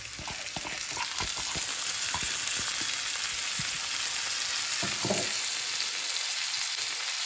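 Diced potato and yardlong beans hit a hot pan and fry with a steady, dense sizzle, broken by a few scattered clicks and scrapes of stirring.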